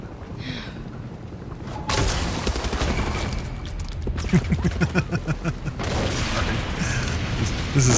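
Gunfire in a video game bursts in at about two seconds as loud, rapid shots and heavy booms, with a crackling volley near the middle, and carries on to the end with a short quieter gap.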